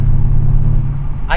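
A Mercedes-Benz CLS55 AMG engine rumbles with a deep, steady, thunderous tone heard from the driver's seat, loud and sustained with little change in pitch, ending with a brief higher-pitched burst.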